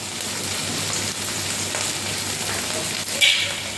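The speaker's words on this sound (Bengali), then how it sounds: "কুচিগুলোকে ভালো করে ভেজে নেব।" Chopped vegetable pieces frying in oil for a rui fish curry, a constant dense sizzle with faint stirring and a brief brighter crackle near the end, no talking.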